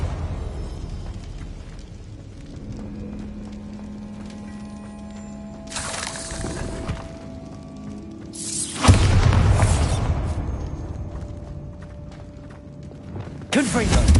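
Bombarda blasting spell explosions in the video game Hogwarts Legacy, with loud broadband bursts around six, nine and fourteen seconds over a steady in-game ambience and low hum, the middle blast the strongest with a rumbling tail.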